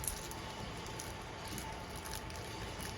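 Steady rain patters outdoors on a wet day at a caravan site, a dense, even hiss of drops with no clear breaks, moderately loud and continuous throughout.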